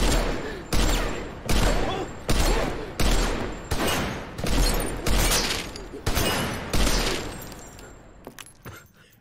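Bursts of gunfire from a movie, about a dozen loud, sharp shots or short volleys at a steady pace, each decaying before the next, ending in a few lighter clicks.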